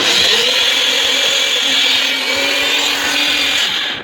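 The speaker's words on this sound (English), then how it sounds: "I'm going to put it on my NutriBullet" A NutriBullet blender runs steadily and loudly for about four seconds, a continuous high whirring motor drone with a grinding edge, cutting off at the end.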